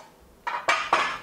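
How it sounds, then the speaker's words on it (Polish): Metal kitchenware, including a roasting pan, clatters while cheesecake is being made, with three sharp close clanks in quick succession after a quiet start and no talking. "Przepraszam, że tak tłuczę, ale to tak niestety jest."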